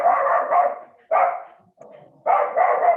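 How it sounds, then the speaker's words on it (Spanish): A dog barks indoors during an online class, three loud, close bursts of barking separated by short pauses, with no voices over them. "El perro también está explicando."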